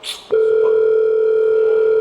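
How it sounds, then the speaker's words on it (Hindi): A phone gives off a loud, steady electronic tone that starts abruptly after a brief rustle and holds unbroken to the end. "सर आपका फोन आ रहा है।"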